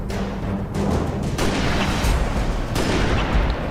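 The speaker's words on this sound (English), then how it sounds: "from here you can snipe the 2 chieftains" Repeated gunfire and booming blasts from a sniper rifle firing at Covenant chieftains in the video game Halo Reach, loud and continuous over a dense, rumbling battle soundscape.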